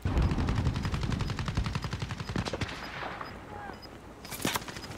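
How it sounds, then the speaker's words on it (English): Automatic gunfire in the video game Warzone: a rapid, sustained burst of shots that thins out into scattered single pops, with some faint voices in the background. "Oh no, he's shooting."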